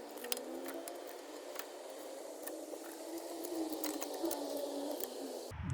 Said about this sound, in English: We're gonna use the C-press.